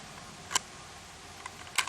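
Bolt of a Ranger .22 rifle released forward: two sharp, close metallic clicks about a second apart over a steady background hiss, with a faint tick in between and no talking.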